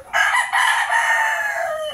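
A backyard rooster crows once, close and loud, a single drawn-out call that rises then trails off over about two seconds.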